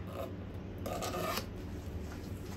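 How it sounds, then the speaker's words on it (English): A razor blade scrapes wood at the neck joint of a 1969 Martin D-28 acoustic guitar under restoration, giving quiet, close, dry rasping strokes with a brief brighter burst partway through. "I'm just going to use my trusty razors to just scrape away in these areas."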